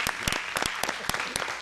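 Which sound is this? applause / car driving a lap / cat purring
applause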